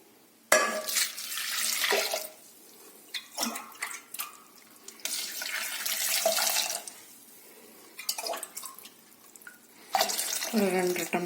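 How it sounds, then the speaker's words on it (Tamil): Water splashes and pours into a metal pressure cooker holding dal for sambar, in several bursts, with short pauses and clinks between pours, close up. "இப்போ 1 டம்ளர் பருப்பு வச்சுன்னா அதுக்கு 2-3 டம்ளர் தண்ணி ஊற்றிக்கலாம்."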